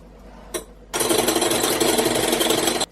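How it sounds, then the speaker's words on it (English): A mixture being whisked until it thickens, a loud continuous close whirring starting after a brief burst and running steadily for about two seconds, no talking. "I'm just going to whisk this together until it starts to thicken up a bit."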